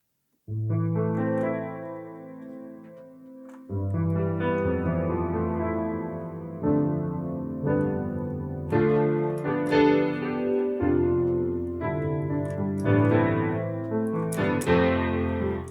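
A Ravenscroft 275 piano played through a 4 Pockets chorus flanger in apeMATRIX, with sustained chords and melody notes swirling and shimmering under the sweeping effect, clear and moderately loud with no voices.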